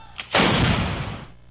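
A single heavy blast of military bombardment on an Abu Sayyaf stronghold in Sulu, a sharp onset followed by a loud, broad rumbling roar that slowly fades over about a second.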